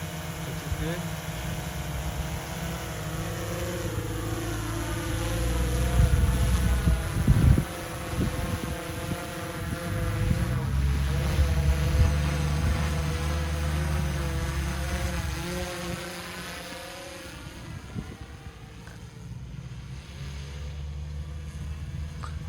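A Swellpro FD1 drone with its motors armed, flying nearby, a steady propeller whine and hum whose pitch sweeps up and down as it moves, with a low rumble of wind and talk underneath.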